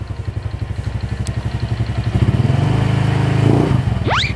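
Modified motorcycle with a racing-standard setup idles with a rapid, lumpy thump, then its engine rises in a sustained rev. The rev ends in a sharp upward squeal, loud and close, with no talk.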